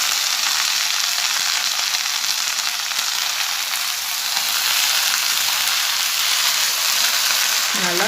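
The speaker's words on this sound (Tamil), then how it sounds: "நல்லா மீடியம் ஃப்ளேமில் வச்சு இந்த பிரண்டையெல்லாம் ப்ரௌன் ஆகிற வரைக்கும் இதை நான் வதக்கணும்" Pirandai (adamant creeper) sautéing in a pan over a medium flame as a tuvaiyal is made, a constant loud sizzle and crackle of frying with no voices.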